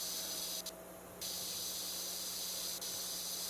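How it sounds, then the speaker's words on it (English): A pressure washer in PowerWash Simulator 2 sprays in a long continuous hiss, broken by one brief pause early on before resuming steadily. "Let's try to spray this off."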